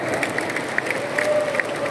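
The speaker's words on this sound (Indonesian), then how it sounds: "Tepuk tangan untuk Mas Bambang." Light scattered clapping from a crowd at a Golkar party briefing for election witnesses in Blora, steady and moderately distant, with a few sharper claps standing out.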